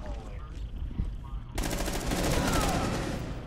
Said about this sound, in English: He he shot from the hatch